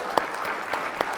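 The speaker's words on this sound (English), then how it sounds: "give me a round of applause for that." Lecture audience applauding, a short steady wash of clapping with a few sharper individual claps standing out.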